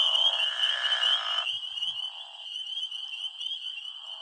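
A recorded pickerel frog call plays as a steady, growl-like drawn-out croak. It opens in a fuller, louder burst and then continues as a thinner sustained snore with no talk over it.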